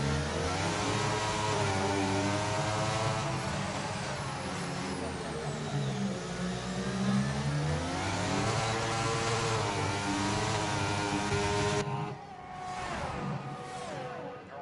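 Formula race cars in a racing video game on an Azerbaijan circuit, engines droning steadily with rising and falling revs throughout, under continuous commentary.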